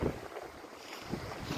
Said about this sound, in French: le vent vient de se lever